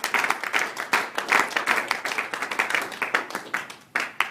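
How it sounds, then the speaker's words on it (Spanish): A church congregation gives a loud, energetic round of applause during a sermon, with fast, dense clapping pulsing in uneven bursts throughout and no talk over it. "claro que le podemos dar un tremendo aplauso al Señor de la gloria"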